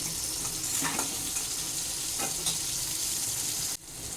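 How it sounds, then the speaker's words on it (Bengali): Continuous close sizzling of potatoes with salt and turmeric frying in oil, with occasional spatters and stirring scrapes, cutting off briefly near the end. "দেখো আলুগুলো আমার লাল করে ভাজা হয়ে গেছে"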